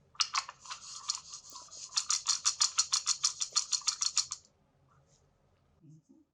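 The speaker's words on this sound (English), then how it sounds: "To spread the cells, I will shake the plate back and forth so the beads make this sound." Glass beads rattling inside a culture plate shaken back and forth to spread cells, giving a rapid series of bright, rhythmic rattling bursts that speed up into a steady run before stopping, close and clear.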